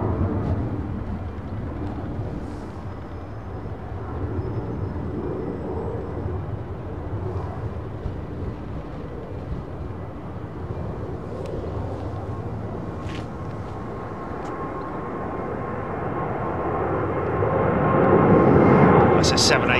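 A Hong Kong Airlines group airliner takes off from runway 09R at London Heathrow, its engine roar a broad steady rumble that swells louder near the end, with voices talking over it.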